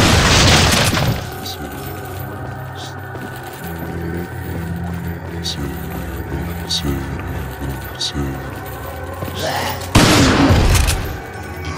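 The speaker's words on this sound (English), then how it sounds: "Why do I hear pistol shots?" Gunfire in the video game Resident Evil 4, loud bursts near the start and again near the end over a steady bed of game music and ambience.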